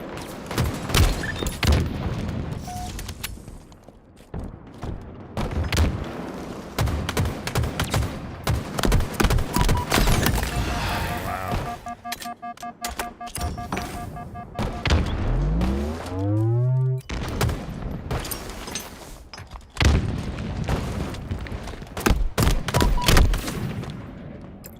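Grenade blasts and gunfire from a Halo esports scrim rattle in dense bursts, with booming explosions and a rising mechanical whine midway, loud and continuous, and faint talk mixed underneath.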